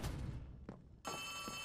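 In the horror video game Poppy Playtime, an in-game telephone rings: a quiet start with a couple of soft thuds, then a steady electronic ringing tone sets in for the final half second or so.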